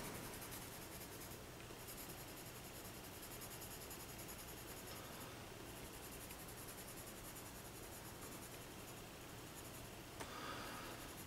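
Pencil drawing rocks by hand on paper, a soft continuous scratching and rubbing of graphite that runs steadily throughout, close and fairly quiet, with no talking.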